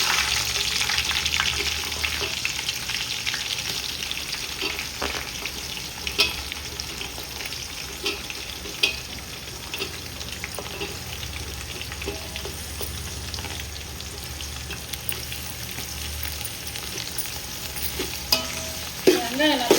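Onions fry in hot oil for a biryani, giving a steady, close crackling sizzle with occasional scrapes and clinks of stirring throughout. No one speaks.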